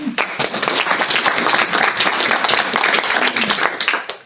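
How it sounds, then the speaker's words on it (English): Audience applause at a sustainability conference, dense steady clapping from a crowd filling the room, loud and continuous for several seconds with a faint voice briefly under it. "So a round of applause for Monica."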